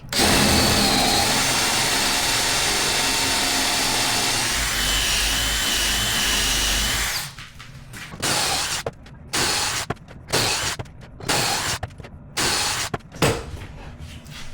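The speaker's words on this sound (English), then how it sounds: "we drill them all in the same location" A power drill bores into plywood in one long continuous run, then fires in several short, separate bursts with brief pauses between.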